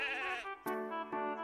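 A curly-fleeced sheep in a meadow gives a quavering bleat followed by two shorter calls, close and clear in a quick sequence.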